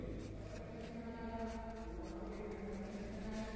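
A teacher writes on a board during a grammar lesson, giving a steady run of soft scratching strokes close to the mic over a low background hum, with no speech.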